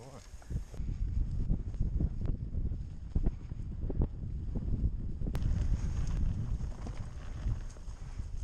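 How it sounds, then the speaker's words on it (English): Strong wind gusting across a mountain trail buffets a microphone during a bike ride, a steady low roar with rumbling bursts throughout. "It's pretty windy."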